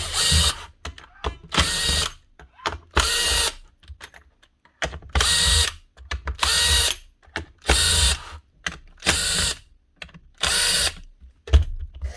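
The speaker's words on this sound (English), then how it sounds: "unscrew the two halves" A power driver unscrews the two halves of a broken power tool's housing, its motor whirring in about eight short, even bursts separated by brief pauses, close and loud.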